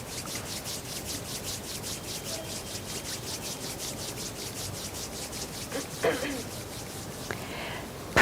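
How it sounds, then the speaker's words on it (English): Palms rub against each other in a continuous soft, dry, rhythmic swishing, with faint background sounds and a few small bumps near the end. "gently rub the palms of your hands against each other"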